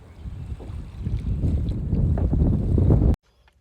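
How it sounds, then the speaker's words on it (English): Breezy outdoor wind near water where rowing crews practice, a steady loud rushing buffet on the microphone that builds over a few seconds and then cuts off abruptly. "It's a little breezy down there."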